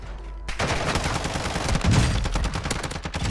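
Rapid, loud automatic gunfire erupts after a brief quiet moment in the Warzone 2.0 video game, a dense burst of shots that continues steadily to the end.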